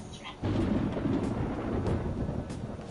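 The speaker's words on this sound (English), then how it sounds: "It sounds like it's going to rain." Thunder and rain in the game Persona 5 Royal: a deep, sustained rumble swells in after a brief quieter opening and holds steady with a hissing wash, fairly faint overall.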